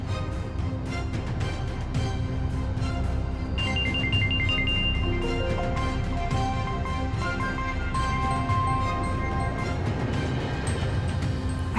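A mobile phone ringtone plays continuously, a bright repeating melody over a steady background hum, loud and close.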